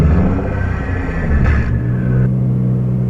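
A straight-piped Nissan GTR engine revs loudly up close, a deep steady rumble that rises in pitch in stages as the revs climb, with no talk over it.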